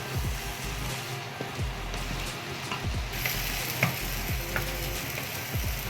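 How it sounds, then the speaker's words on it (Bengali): Paneer cubes being stirred into palak in a pan for palak paneer, a steady close sizzle with repeated scraping spoon strokes throughout, no talking. "এর মধ্যে আমি পনিরগুলো দিয়ে দিচ্ছি, ভালো করে মিশিয়ে নেব।"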